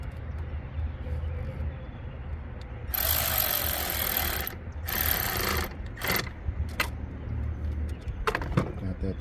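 Hand ratchet tightening a fastener on a BMW X5 E70 during AC and heater repair, rapid clicking bursts in a few quick spells over a low background hum, close to the microphone.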